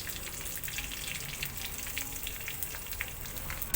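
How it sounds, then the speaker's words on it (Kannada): Cumin, curry leaves and asafoetida fry in hot ghee for a second tempering over dal, giving a steady, close, crackling sizzle that continues throughout without speech. "ಇನ್ನೊಂದು ಬಾಣಲಿಯಲ್ಲಿ ನಾನು ಡಬಲ್ ಒಗ್ಗರಣೆ ಹಾಕ್ಕೊಳ್ತಾ ಇದ್ದೀನಿ."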